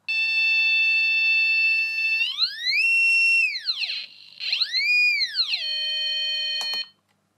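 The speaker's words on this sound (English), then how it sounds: "we have the buzzer test here" An Arduino starter kit's electronic buzzer sounds steady tones that sweep up and down in pitch, cutting out briefly, then ends abruptly after several seconds; loud and close, no talking.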